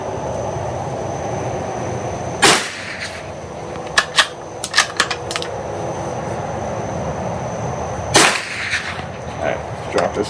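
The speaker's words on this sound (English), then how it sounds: "So let's take a couple shots." Two sharp cracks of a suppressed .22 rifle with an 18-inch barrel at an outdoor range, a few seconds apart, each with a brief tail, over faint background noise and scattered small clicks.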